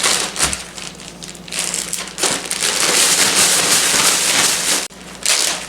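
Cinnamon roll pieces shaken and tossed inside a bag make loud, continuous rustling and rattling with brief pauses, close up and without talk.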